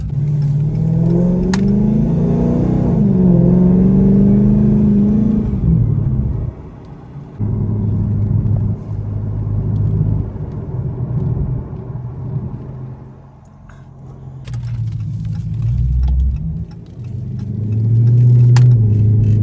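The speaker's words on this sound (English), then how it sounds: "I'm pretty sure it might be a heat shield, either that or something to do with the exhaust" A Dodge Charger Pursuit engine rumbles and revs at close range while a metallic rattle, likely from a heat shield or the exhaust, buzzes over it, the drone dipping and surging across the stretch.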